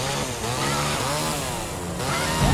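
A chainsaw weapon in Evil Dead Regeneration roars close and loud, its buzzing engine revving and wavering in pitch without a break.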